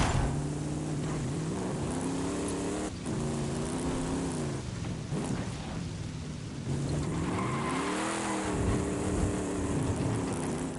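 A V8 diesel truck engine in a video game drones steadily and loudly throughout, its pitch rising and falling as the truck revs and shifts, with no talking over it.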